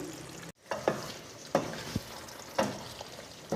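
Chicken curry being stirred after kasuri methi and garam masala go in, a faint low sizzle broken by several distinct spoon scrapes and taps against the pan.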